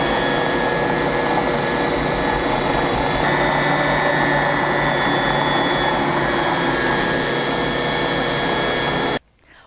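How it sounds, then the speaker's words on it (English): An electric mixer creams butter and sugar for biscotti dough, a loud steady motor whir with a constant hum that runs unbroken for about nine seconds, then cuts off abruptly. "While the butter and sugar are creaming"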